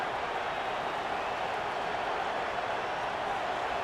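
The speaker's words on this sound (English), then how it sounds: "Here comes the noise. Is this crowd doing everything they can to help the defense bear down on 3rd down?" Stadium crowd in the College Football 26 video game, a broad, faint roar of many voices holding steady without clear individual cheers.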